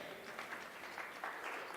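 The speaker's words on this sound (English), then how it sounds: "Another better round of applause for this panel" A crowd applauds a panel at a digital and technology week event, a short burst of many hands clapping at moderate volume with slightly uneven swells.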